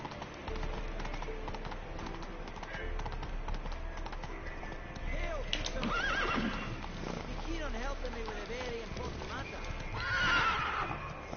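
Roach, the horse in the video game The Witcher 3, gives a loud whinny over the steady clip-clop of hooves, with game sounds and someone talking throughout.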